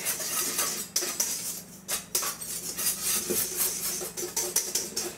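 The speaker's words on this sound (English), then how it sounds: "Mix this up well. I'm using a whisk." A wire whisk clinks and scrapes against a bowl while stirring salt into dry flour and cornmeal for skillet cornbread, with irregular metallic taps and brief pauses, close and fairly quiet.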